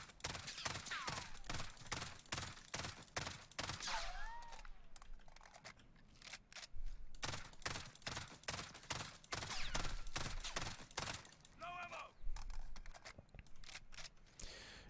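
Long, dense bursts of fully automatic fire from an FR 5.56 rifle in the video game Warzone, rapid and sharp with only brief pauses, loud and continuous, with no voices.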